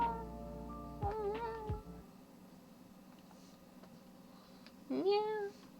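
A person imitates a cat's meow twice, a wavering vocal mew near the start and another sharper meow near the end, loud and close against a quiet room.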